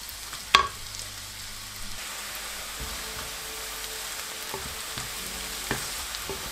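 Onions and spices frying in a pan for turnip greens saag: a steady, moderate sizzle with a sharp clank of a spoon on the pan near the start and occasional soft stirring scrapes.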